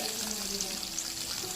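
Green and dried chillies with tamarind are sautéed in a pan for a curry leaves chutney, giving a soft, continuous sizzle heard close and steady.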